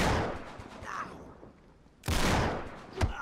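Gunfire in Uncharted 3: Drake's Deception, with a burst of broadband shots near the start, a louder cluster after a short lull, and one sharp nearby crack at the end.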